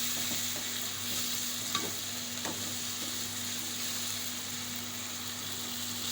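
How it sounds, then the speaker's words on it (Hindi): Spice masala with salt, turmeric and green chilies being fried and stirred for okra sabzi, a soft continuous sizzle with faint occasional stirring taps, steady and moderately quiet over a low background hum. "ये देखिए मसाला यहाँ अच्छी तरीके से भून रहा है"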